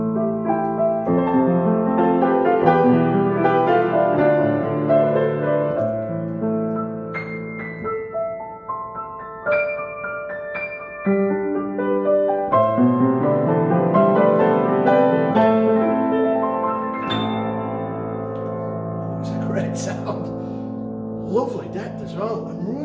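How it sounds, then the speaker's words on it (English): A Yamaha GB1 baby grand piano plays a continuous passage of rich sustained chords and melody, close and fairly loud, with ringing tones and varied dynamics, no talking over it. "let's have a listen to it"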